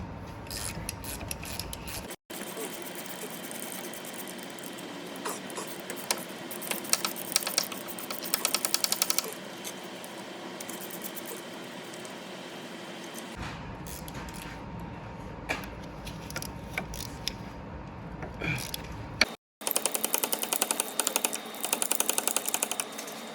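Sustained mechanical whirring and rattling of a power tool with a 15mm socket loosening a wheel bearing bolt on a Dodge Grand Caravan, steady and loud with brief pauses, no talking.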